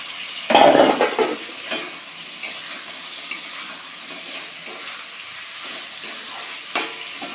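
Fried potato and cauliflower tipped into sizzling masala in a pan, for jeera rice and butter paneer: a loud splash of frying at the start settles into steady sizzle with occasional stirring scrapes, no voices.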